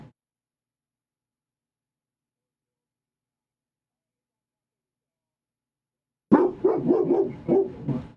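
Dogs barking indoors during a phone conversation, a quick cluster of loud, close barks bursting out after a long stretch of silence.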